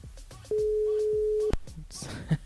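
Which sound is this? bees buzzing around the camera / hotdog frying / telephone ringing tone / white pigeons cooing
telephone ringing tone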